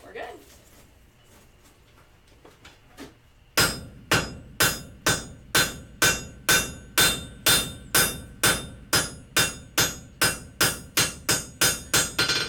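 Hammer blows on wrought iron at an anvil, a steady run of about twenty loud, sharp, evenly spaced strikes, with quieter shuffling and clinks before the rhythmic forging starts.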